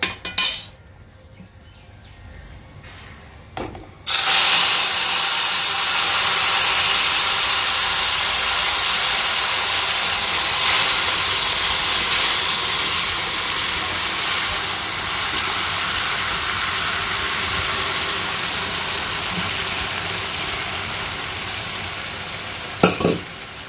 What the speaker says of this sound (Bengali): নেড়ে আমি ফোড়ন মানে কড়ার মধ্যে দিয়ে দেব